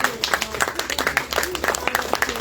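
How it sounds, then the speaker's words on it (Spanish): A short burst of clapping from a seated audience, steady and fairly dense, with a voice speaking over it. "Muy bien, aplausos."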